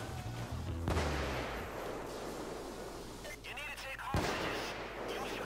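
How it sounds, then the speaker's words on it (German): Gunfire pours in from all sides during a Payday 2 heist shootout, with loud bursts and dense rattling shots layered over a constant roar of battle while someone talks over the chaos. "Oh, von überall schießen die auf mich."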